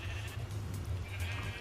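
A sheep in the Minecraft video game bleats in a short, low, wavering call, repeated in quick pulses, clear and close with no talk over it.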